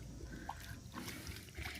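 A dog wades into a lake, making soft, close sloshing and trickling water sounds over about two seconds, with no talking.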